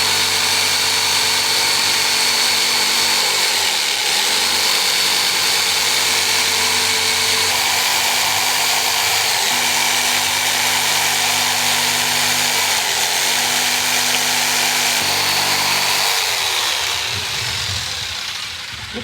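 Power tool cutting through a wall just above the baseboard during a guitar studio build, a loud continuous motor whine with harmonic bands that dips briefly twice, then fades as the cut ends.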